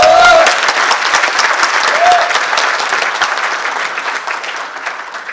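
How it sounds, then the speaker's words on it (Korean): An audience at a social workers' association presidential election speech breaks into loud, dense applause that slowly fades over five seconds. "박수 한번 주십시오."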